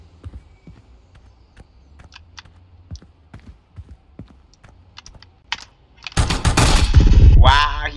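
Gunfire in the Roblox BRM5 military shooter during a 2v2 match: light clicking and soft taps give way to a loud, dense burst of shots close up over the final two seconds.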